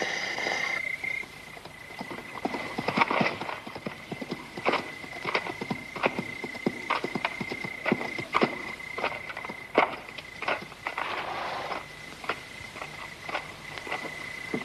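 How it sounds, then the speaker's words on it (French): A group of riders on horseback approaches in a Western setting. Irregular hoof clip-clops grow steadily over a field of chirping insects, with a thin high whistle-like tone early on and no talk. "Voilà un groupe d'hommes à cheval."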